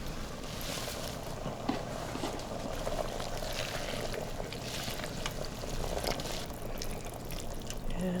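Sausage, kale and couscous soup simmers in an Instant Pot, a faint steady bubbling hiss that carries on evenly with small pops throughout.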